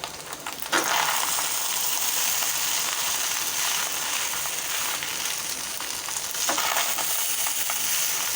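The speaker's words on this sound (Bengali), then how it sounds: "এখন আমি সব কিছু ভালো করে মিশিয়ে দেব।" Fried rice with boiled red lentils being stirred and tossed in a hot pan, a continuous loud scraping, sizzling rustle that runs unbroken with a couple of sharper spatula scrapes.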